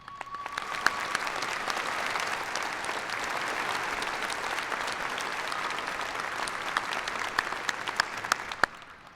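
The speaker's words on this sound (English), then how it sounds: "Let's give them a round of applause." Sustained audience applause fills a 2019 spring undergraduate degree ceremony at UND, a dense wash of clapping at steady loudness with a few sharper individual claps near the end, no talk over it.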